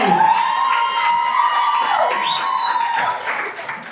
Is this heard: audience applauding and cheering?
yes